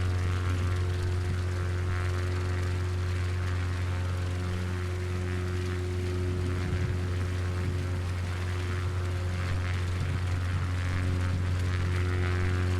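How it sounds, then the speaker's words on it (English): An airplane's steady propeller drone with strong low harmonic hum, holding at a fairly constant, loud level throughout without any voices. "Now the plane gets louder and louder."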